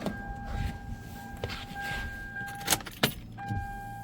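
A newly fitted car windshield wiper, replacing one used for 23 years, is switched on: a faint electric motor whine with soft mechanical clicks and a couple of sharper thumps as the blades sweep.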